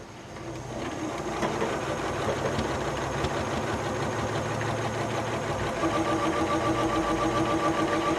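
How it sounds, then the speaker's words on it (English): Sewing machine stitching quilt block pieces for a compass rose block, a continuous close mechanical whir and rapid rhythmic needle clatter running steadily after a brief start. "Turn it back over again, and this time you can sew clear out to the edge."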